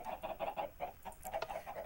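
Chickens cluck in the video game Minecraft, with a quick, uneven string of short clucks that stays close and fairly soft, and no talking over it.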